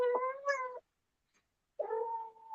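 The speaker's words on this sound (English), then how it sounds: "Yeah, that was my cat." A domestic cat meows twice on a back step at night, two clear, drawn-out, tonal calls separated by about a second of silence, close and fairly loud with no talking.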